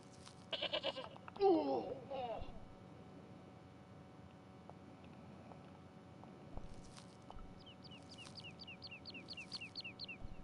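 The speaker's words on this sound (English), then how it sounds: "The goat's movements were restricted by a halter tied to a metal post." A goat tied by a halter to a metal post bleats in the point-and-click game Broken Sword: Shadow of the Templars, a short, wavering cry near the start followed by quieter game ambience and a string of short high chirps.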